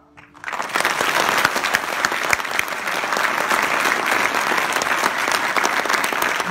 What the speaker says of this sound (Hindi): हम इतनी जोर से तालियां बजाएं